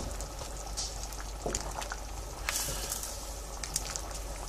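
A pan of heavily salted water boiling with spaghetti gives a steady, soft bubbling hiss with small pops and crackles, close and quiet, with no voice over it.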